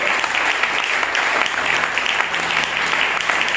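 A church congregation applauds loudly and continuously, dense clapping filling the room without pause for several seconds.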